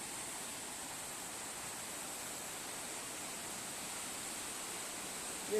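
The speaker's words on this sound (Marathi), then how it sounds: "ही वाहणारी अशी ही नदी" A soft, constant rush of the flowing Tansa river near Shahapur, India, heard from a little distance, unbroken and even throughout.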